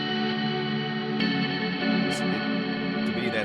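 Sustained guitar chords ring through a single reverb setting on a Headrush effects unit, a smooth, continuous wash with a bright shimmering tail and a few small picking accents near the end.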